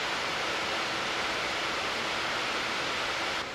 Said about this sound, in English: that is the sound of the max fans going on.